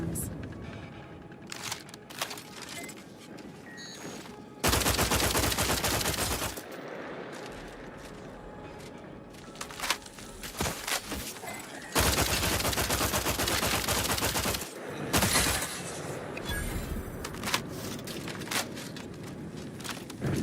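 Gunfire in The Outer Worlds 2 video game: two long, loud, dense bursts of automatic fire, plus scattered single shots and clatter in between, with a voice heard at times.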